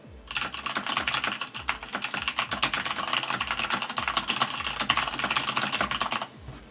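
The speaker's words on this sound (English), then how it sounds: "this is a typing test without any O-rings on the keyboard" Fast, continuous typing on a Corsair K95 RGB mechanical keyboard with no O-rings fitted: sharp, close clacks in a quick irregular rhythm with heavy bottoming-out thuds, alone and fairly loud.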